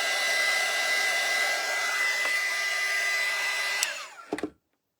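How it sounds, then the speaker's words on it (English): A hair dryer blows a steady, loud, close whoosh while drying white paint on a cutting-board craft, then clicks off and stops with a few brief knocks. "So I'm drying that a little bit so I can put another coat on there."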